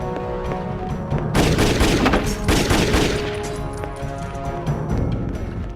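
Gunfire in the Jet Li's Rise To Honor video game, dense rapid volleys of shots crackling in bursts over a continuous loud action soundtrack, alone without talk.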